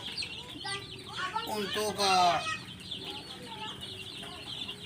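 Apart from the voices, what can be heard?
chickens clucking in a chicken coop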